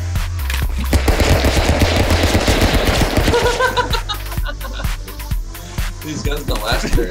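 Rapid automatic gunfire in the video game Stick Fight, a dense rattling burst of many close shots over several seconds, thinning to scattered single shots, with game music and effects underneath.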